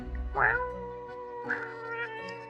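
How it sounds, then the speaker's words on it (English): Cartoon cat meowing in the video game Death and Taxes, two bewildered mid-pitched meows with a bright tonal quality, close and clear over a soft musical backdrop. "Lady Poddington utters a bewildered meow, then performs the closest thing a cat can do to a shrug"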